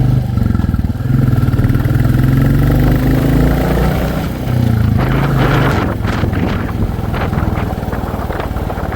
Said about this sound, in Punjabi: ਲੋ ਇਹਨੂੰ ਆਪਾਂ ਹੁਣ ਬੈਕ ਲੈਨੇ ਮੋਟਰਸਾਈਕਲ ਨੂੰ